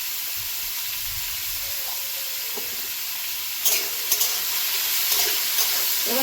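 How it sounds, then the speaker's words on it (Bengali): Vegetables fry with salt and turmeric in a pan, a soft continuous sizzle close by, followed by a few clinks and scrapes of stirring near the end. "কিছুক্ষণ ভেজে নেব।"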